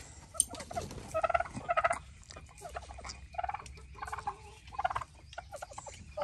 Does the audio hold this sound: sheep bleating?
no